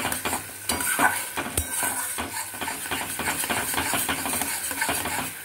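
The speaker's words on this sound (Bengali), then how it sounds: "এরপর এখানে ভালো করে নাড়াতে হবে।" Sour yogurt with cumin and dried chilli being stirred in a hot pan: a spoon scrapes and clinks against the metal in quick repeated strokes over a soft sizzle, close and with no talking.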